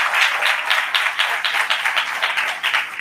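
A church congregation at a Sunday service claps in a steady, rhythmic beat, dense and continuous hand clapping filling the room without speech.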